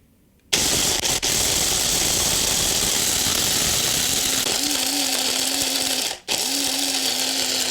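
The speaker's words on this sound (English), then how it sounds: "I've got a grinder right here, and I want to try to grind these up for flour." An electric grinder grinding acorns into flour switches on abruptly and runs at a steady, loud, high-pitched whine, dipping briefly near the end before carrying on.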